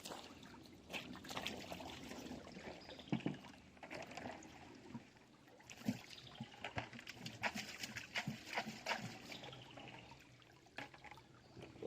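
Water running steadily through a gold sluice box outdoors in a forest, a soft continuous trickle and splash, quiet and close, with occasional light knocks and clatters.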